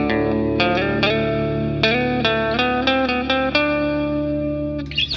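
A Danelectro Sitar Swami electric guitar on a clean tone with reverb and the EQ set flat rings out a run of about eight plucked notes and chords, each sustaining and overlapping, close and fairly loud with no talking.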